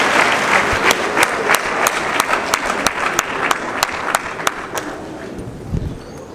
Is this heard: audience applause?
yes